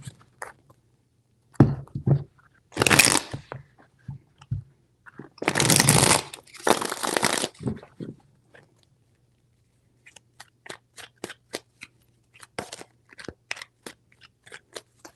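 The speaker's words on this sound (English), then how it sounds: "Three shuffles." A tarot deck being shuffled three times during a reading, heard as several bursts of riffling and crisp crackling card noise, followed by a run of short, sharp card snaps and taps, close and with no talking.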